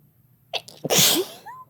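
A single loud, close sneeze, preceded by a quick sharp intake of breath, ending in a short trailing voiced sound.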